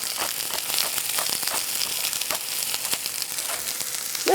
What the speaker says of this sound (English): I'm going to fry these all up together so they make a delicious thing